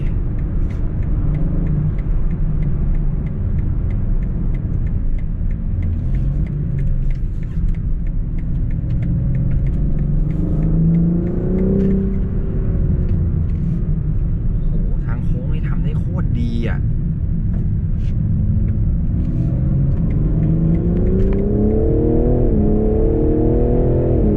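BMW M4 G82 engine pulling hard on a test drive, a steady loud rumble with engine pitch rising and falling through the gears, heard from inside the car.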